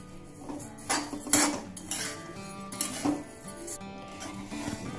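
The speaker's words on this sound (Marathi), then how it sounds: "मी मध्यम हीट वरती हे भाजत आहे" Idli premix dry-roasted in a pan over medium heat, close scraping and clinking of a metal utensil against the pan in irregular strokes, with brief rasping stirs and no talking.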